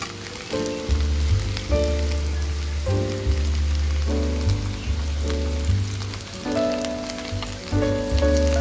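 Okra curry with dried prawns frying in a pan, stirred now and then, gives a close, steady sizzle under louder background music.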